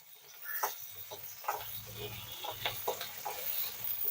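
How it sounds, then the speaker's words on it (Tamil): Onion and ten cloves of garlic sautéing in oil in a pan for a sardine curry, giving a soft, steady sizzle broken by several brief stirring scrapes, close and moderately quiet. "இதோட பத்து பல் பூண்டு இந்த வெங்காயம் பூண்டு ரெண்டுமே நல்லா வதங்கட்டும்"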